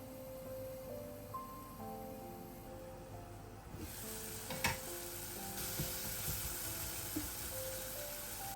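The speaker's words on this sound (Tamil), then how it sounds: "அதுக்கப்புறம் 1/2 ஆனியன் அண்ட் 1/2 டொமேட்டோ நான் சேர்த்திக்கிறேன். சேர்த்து மறுபடியும் நல்லா மிக்ஸ் பண்ணுறேன் கொஞ்சம் வதங்குறதுக்கு." Onion and tomato sauté in a pan with ginger garlic paste, giving a continuous close sizzle that grows brighter and louder midway, with a faint steady hum and occasional stirring scrapes.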